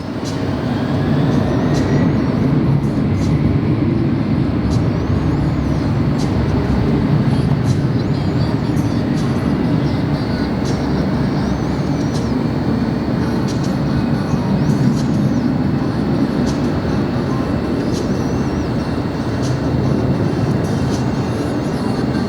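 A heavy FedEx cargo jet operating at Los Angeles International Airport produces a loud, steady, broadband engine roar lasting throughout, with a sustained low rumble and no talking.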